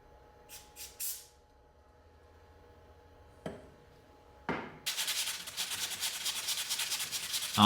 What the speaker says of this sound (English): After a bit of sanding